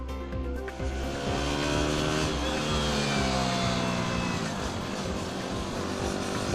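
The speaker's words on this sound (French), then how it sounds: "L'unique et puissant cylindre a une bonne accélération." A BMW single-cylinder motorcycle accelerating, its engine note climbing in pitch through several rising sweeps, moderately loud and mechanical, with a faint background hiss.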